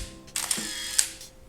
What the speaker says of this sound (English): Opening up the T-50 with the lever here, you will be able to see the Canon's automatic winder and its metal shutter curtain.